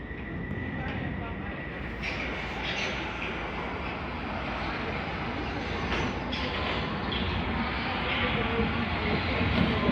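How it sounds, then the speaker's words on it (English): A London Underground District Line train pulls into the platform at a station, a sustained rumble and rattle of wheels on rails with a platform announcement voice over it. "Train now arriving on platform 1 is the District Line service to"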